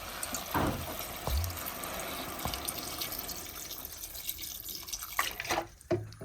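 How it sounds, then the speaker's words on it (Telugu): Water is poured into a pot of curry with faint trickling and dripping, a few soft knocks of the pot, and a quiet background throughout. "కొద్దిగా ఎక్కువ నీళ్ళు పోద్దాం"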